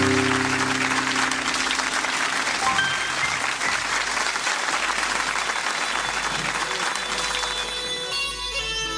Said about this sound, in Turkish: Ve Rıza eskici kardeşler geliyor efendim alkışlarla.